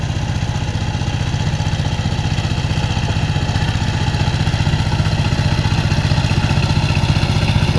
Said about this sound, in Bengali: আমাদের এখন জমি ধরিচ্ছে এই পাওয়ার টিলার মেশিন দিয়ে দেখুন